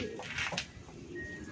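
Racing pigeons in a pigeon loft make soft, low cooing, close but quiet against a steady background hum.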